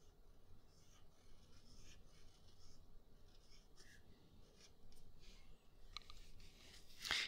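An ebonite fountain pen scratches across paper that suits it poorly, giving faint continuous scratchy strokes with small ticks and a brief sharper scrape at the end, close and quiet with no talking.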